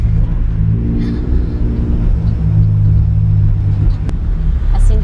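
A car accelerating hard during drift practice, its engine holding a loud, steady low rumble with rising harmonic tones throughout, close by and with no speech over it.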